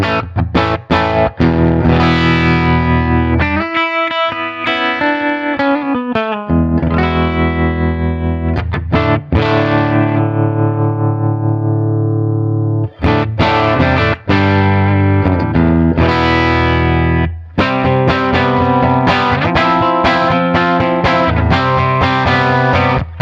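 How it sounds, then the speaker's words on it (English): Vintage combo rock guitar amplifier cranked to 10 with treble and bass also maxed, giving a loud, distorted electric guitar playing chords and riffs with brief pauses, alone without talk. "we'll put this thing on 10. See what that sounds like, and just it's a rock amp"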